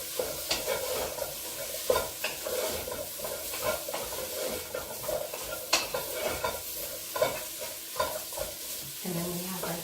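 Mushrooms hit a frying pan for Irish beef stew, giving a steady close sizzle broken by repeated scraping stirs and a few utensil knocks against the pan, with no voices.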